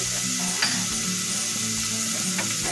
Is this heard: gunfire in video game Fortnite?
no